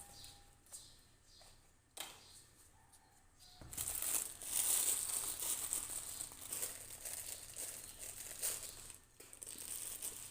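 A plastic bag of sugar is handled and crinkled indoors, with faint rustles first and then a long, louder stretch of crackling and crumpling close by, with no voices.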